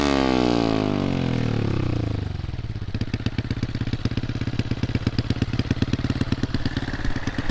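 A Honda Super Cub with an aftermarket exhaust starts with a loud, high rev that winds down, then settles into a rapid, loud, close-up popping idle that runs steadily to the end.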